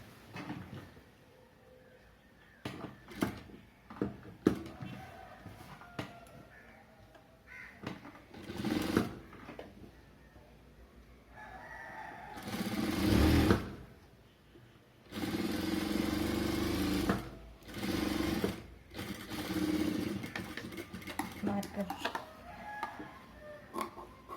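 A sewing machine stitches a blouse neckline in short, loud bursts of whirring of varying length, separated by quiet gaps and small clicks.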